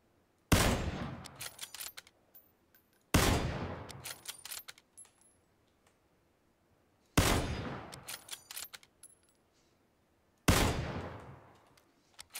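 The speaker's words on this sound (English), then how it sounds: "Is that somebody taking a shot at you?" Four loud, sharp gunshots fire one at a time with long gaps between them, each cracking hard and then trailing off in a decaying echo.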